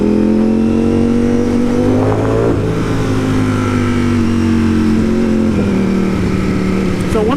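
A Ducati Streetfighter V4 motorcycle engine pulling hard while riding, a loud continuous droning roar with pitch sweeping up and down as revs rise and fall, close and dominant throughout.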